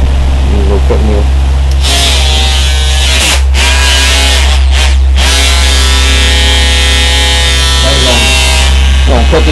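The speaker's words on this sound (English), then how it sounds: "Take a drilling tool, which I put a different cutting wheel on there." A high, steady electric whine of a small rotary tool's cutting wheel cutting brass, loud and close, rising and dropping as the wheel bites, with brief pauses partway through.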